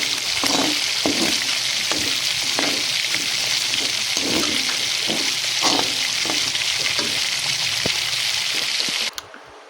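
Minced meat and eggplant frying in a pan, a loud continuous sizzle broken by repeated scraping stirs, close up with no talking, stopping abruptly near the end.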